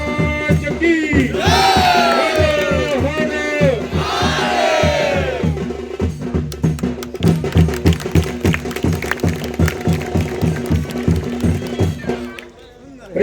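A crowd at a hill fort shouts slogans in unison hailing Chhatrapati Shivaji Maharaj during a palanquin dance troupe contest in Guhagar; loud, ragged chanted calls rise twice, then give way to steady rhythmic drumming.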